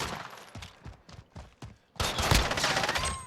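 Rapid gunfire bursts from Call of Duty Modern Warfare Gunfight 2v2 open alpha, a few scattered shots at first, then a loud, dense volley of automatic fire dominating the second half.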